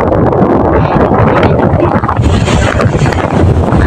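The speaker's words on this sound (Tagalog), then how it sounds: "Hanggang ngayon po ay malakas pa rin ng hangin." Loud, constant typhoon wind roars and buffets the microphone, a thick, unbroken rush with surging gusts throughout.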